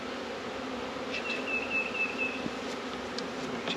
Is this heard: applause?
no